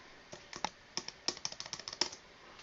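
Typing on a computer keyboard while entering text into a presentation slide, a quick run of light, close clicking keystrokes in uneven bursts with no talking.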